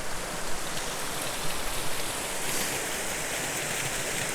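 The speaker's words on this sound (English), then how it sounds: "So here's one of our first waterfalls that I'm going to show you today." A waterfall in Roe Valley Country Park pours with a dense, continuous rushing hiss, loud and close and unbroken throughout, with no voices.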